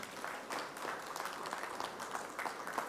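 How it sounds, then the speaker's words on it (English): Applause from a conference audience as a Rwandan ministry official is welcomed at a renewable energy event, a fairly quiet, steady patter of clapping throughout with no speech. "your work is to clap for him or her"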